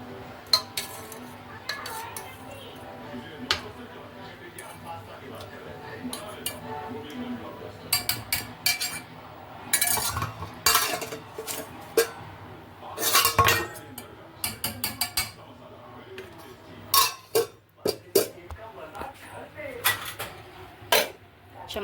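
Dishes and cutlery clink and clatter while food is served at home, a scattered run of sharp metal and plate knocks over low background noise, growing busier toward the end.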